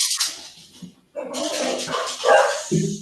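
A pet dog barks and yips in short, loud bursts close by, with a brief quiet gap, during an online business meeting about digital advertising.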